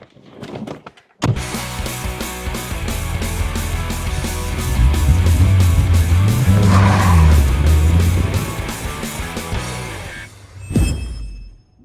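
A Mk2 Volkswagen Golf GTI hot hatch is driven, its engine note rising and falling through a loud, sustained run after a brief start, then tailing off near the end.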